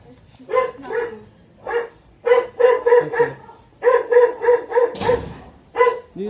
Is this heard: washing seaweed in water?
no